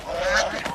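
Geese honk in a short, loud burst at close range, a harsh nasal call with a second squawk near the end, set in a rural farmyard.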